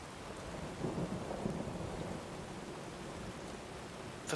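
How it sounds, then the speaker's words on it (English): Steady rain falling on hard soil in the video game Enderal, a constant hissing downpour with soft low rumbles of thunder mixed in, even and enveloping with no voices. "The peaceful dropping of rain over the hard soil."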